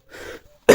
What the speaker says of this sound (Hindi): काफ़ी दिन से खांसी है